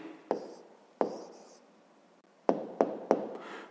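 A pen writes an answer by hand on paper, faint scratching broken by a few distinct taps as strokes land, soft and close with no speech.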